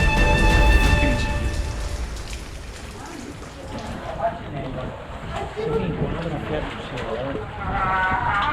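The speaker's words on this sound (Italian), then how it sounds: "E questa è la cascata." Waterfall inside the Buso della Rana cave in Veneto, a steady broadband rush of falling water that fills the space throughout, with voices talking over it.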